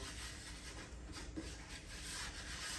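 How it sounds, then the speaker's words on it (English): Quiet, continuous rasping as sandpaper rubs along the edge of a wooden fish cut-out, a steady back-and-forth scratch close by with no talking. "You can come back, sand these edges down."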